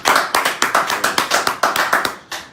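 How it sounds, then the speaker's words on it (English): Close, steady hand clapping from a small audience on a talk show, about a dozen sharp claps in an even rhythm with no voices over them. "You guys give me a round of applause."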